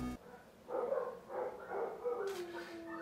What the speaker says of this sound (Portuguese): E eu começo a gravar e os cachorros começam a latir.